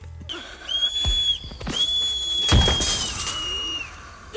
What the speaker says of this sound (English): But then a cop comes up to him and starts whistling.